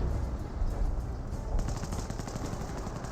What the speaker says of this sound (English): Regular Cromwell now firing shots there onto the Volks Grenadier